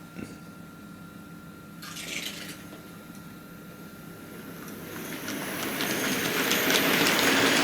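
Hornby Black 5 Super Detail model steam locomotive with tender running on model railway track, a faint rolling rattle at first that grows steadily louder and busier as it approaches, with a brief clatter early on.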